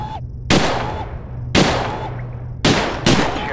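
Four sharp gunshots from Gun Club Reloaded, a VR shooting game, crack out loud and close with irregular spacing, each one decaying with a short echoing tail.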